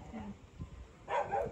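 Small puppies give faint, brief high whimpers and soft whines, quiet and close, over a low background in a short moment.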